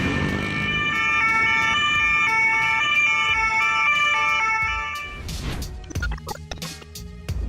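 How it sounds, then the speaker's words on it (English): Ambulance siren wailing amid traffic while escorted by a police caravan, loud and near with overlapping tones, then fading into passing vehicles and brief bursts of other siren and horn sounds. "when accompanied by a police caravan, the sirens are always more convincing"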